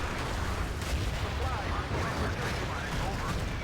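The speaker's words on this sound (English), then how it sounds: "Max, the commander for Team Lego, getting another massive artillery strike on the left over here" Massive artillery strike in a Battlefield 2 32-versus-32 match on Strike at Karkand, a dense continuous roar of distant blasts and gunfire rumbling without pause, with a game commentator talking over it.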